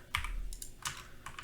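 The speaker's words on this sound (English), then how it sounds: "and then press S on your keyboard." Computer keyboard key presses while editing a Fortnite montage in DaVinci Resolve, a few quiet separate clicks spaced irregularly, close but faint, with no talking.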